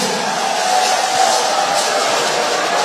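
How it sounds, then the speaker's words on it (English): Crowd noise swells steadily through a packed political forum meeting in Edo, a dense broadband roar of applause and cheering that holds loud and continuous from start to finish without a break. "A round of applause for him."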